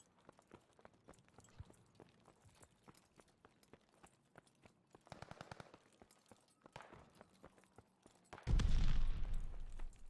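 Gunfire in Call of Duty Vanguard: faint scattered shots and footsteps through most of the stretch, then a loud close burst of fire near the end.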